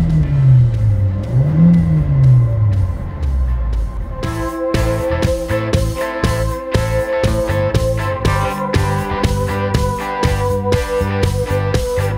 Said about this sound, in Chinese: 呢一架咧就系 1200cc 嘅引擎啊